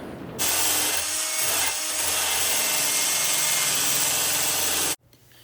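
A drill-powered grinder works the edge of a Harbor Freight axe, a loud continuous abrasive grinding that starts abruptly, holds steady for about four and a half seconds, then cuts off sharply.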